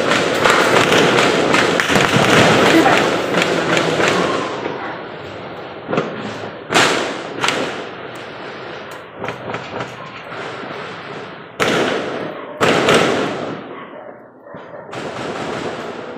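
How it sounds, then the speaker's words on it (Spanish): Sharp, loud cracks of rifle and pistol gunfire come in irregular bursts during an attack on a police station in Fortul, Colombia, some rapid and overlapping, with pauses and echoes between volleys. "Varias ráfagas de disparos de fusil y pistola se escucharon por varios minutos."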